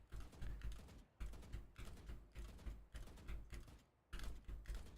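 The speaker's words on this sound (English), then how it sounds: "Can you hear my keyboard?" Computer keyboard typing at a streamer's desk, rapid clicky keystrokes in bursts with brief pauses, close and fairly quiet.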